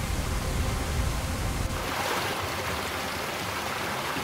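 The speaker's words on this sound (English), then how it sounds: "And as you get closer to the waterfall, it sounds more like a waterfall." Steady rushing water from a waterfall in a canyon-top tabletop game scene, a continuous broadband wash of falling water and spray that stays even and moderately loud throughout, with no voices.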